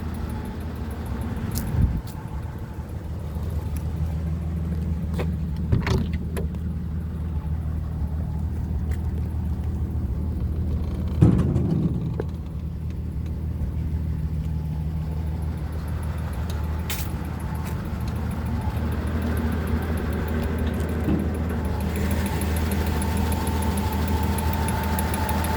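An unrestored 83-year-old car engine idles steadily with a low, even rumble, a few faint clicks and knocks rising over the smooth running, close by and without voices.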